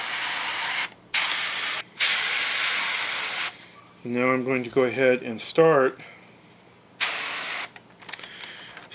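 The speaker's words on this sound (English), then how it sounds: "spraying the paint on" An airbrush sprays a blue-green base coat onto a 1/537 AMT Klingon K'Tinga battle cruiser model at about 27 psi, giving several loud, close hissing bursts, with someone talking in a pause between them.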